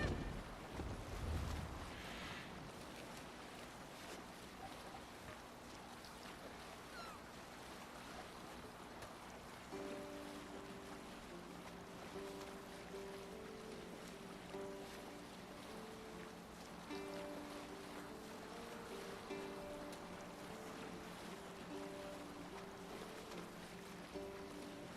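A Viking sailing ship out at sea, with a steady wash of wind and waves, a low creaking hull and faint repeating tonal music running beneath.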